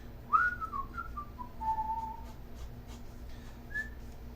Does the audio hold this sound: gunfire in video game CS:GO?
no